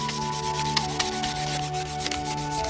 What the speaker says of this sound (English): Then it was on to a long time of hand sanding.